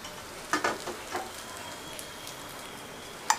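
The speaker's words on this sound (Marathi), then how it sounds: "राहिलेल्या दुसऱ्या बॅचला तळायच्या" Kothimbir vadi, Marathi coriander fritters, shallow-fry in hot oil with a soft steady sizzle broken by a few sharp pops and crackles, one louder pop near the end.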